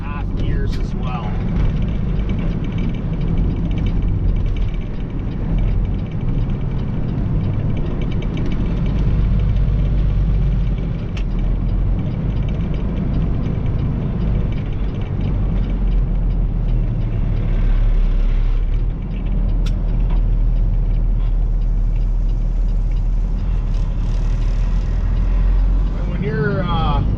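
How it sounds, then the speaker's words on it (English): A heavy truck with an Eaton Fuller 18-speed transmission drones and rumbles from inside the cab as it downshifts through its half gears, the engine note shifting under steady talk. "As I'm downshifting in the top end, I downshift my half gears as well."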